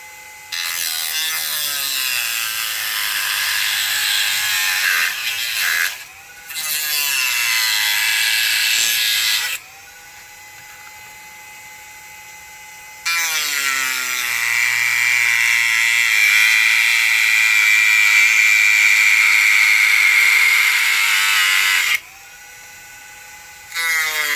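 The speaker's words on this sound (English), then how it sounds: "I'm just going to keep the video running while I cut with the Dremel wheel" A Dremel cutting wheel slices through a prop Stormtrooper-style helmet at the ear area, a loud, continuous high-pitched grinding whine in long bursts broken by short pauses, alone without talk.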